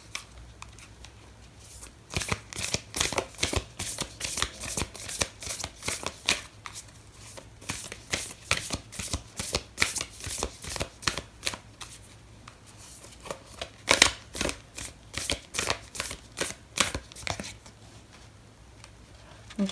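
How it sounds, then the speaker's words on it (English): Oracle cards shuffled by hand during a Cancer love tarot reading, a long run of quick, crisp riffling flicks in uneven bursts with brief pauses, close and clear with no talking. "Cancer, I am going to pull out an oracle card for you."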